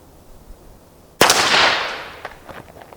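A single sharp pistol shot cracks out nearby partway through, aimed at a playing card edge-on for a trick shot, followed by a decaying outdoor echo and a few faint ticks.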